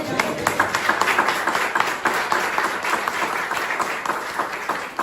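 A church congregation claps together in praise, a dense burst of applause that holds steady for several seconds, moderately close and without talk over it.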